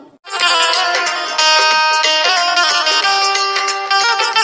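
A loud electronic phone ringtone plays a bright, repeating synth melody, close and continuous, starting abruptly after a brief silence.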